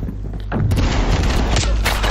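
Gunfire in the shooter game Black Ops Cold War: a quieter stretch gives way to a loud, dense burst of shots and booming impacts that carries on steadily for the rest of the moment.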